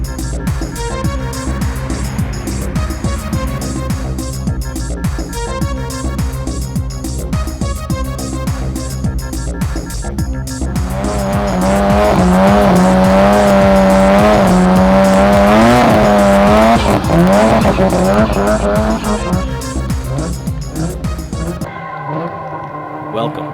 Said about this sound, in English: We're gonna do some street drags.